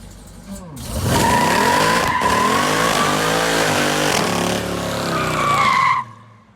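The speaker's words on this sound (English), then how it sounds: "So right now we're gonna do a burnout in the Jeep, and we'll see what it does." A Jeep on Nitto 420V tires does a rear-wheel drive burnout, engine revving hard and steady while the tires squeal loudly for about five seconds before the sound cuts off abruptly.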